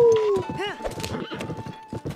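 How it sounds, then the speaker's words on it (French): Horse hooves clip-clop in a quick gallop as the player rides Midnight, a black horse, in Zelda Breath of the Wild, with a whinny and game music and a voice talking over the hoofbeats. "je vais prendre Midnight, le cheval de la nuit"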